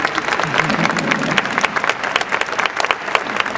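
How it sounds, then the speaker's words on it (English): A crowd of spectators applauds continuously for Daisy, a horse in a training session, with dense, steady clapping that swells in places and some voices underneath. "You can clap her for that."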